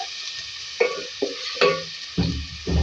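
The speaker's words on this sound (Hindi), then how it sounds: "तेल में। इसको फ्राई करेंगे 1 से 2 मिनट" Sizzling garlic paste frying in hot oil for beef keema masala, a steady hiss broken by several stirring scrapes and spatters, close and fairly loud, no talking.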